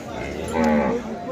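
A native bull at a rural livestock market gives a single drawn-out low moo, close and fairly loud, over a murmur of market background noise.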